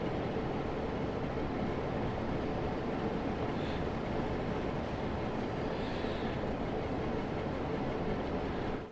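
An underground train in Train Sim World 3 runs steadily, a continuous loud rumbling roar of wheels and motor with no pauses, heard from inside the train.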